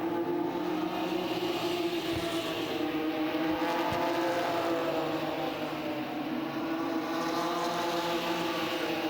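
Steady, loud roar of ARCA series race truck engines racing around Music City Motorplex in Nashville, a droning harmonic whine that holds throughout with no pauses and no voices.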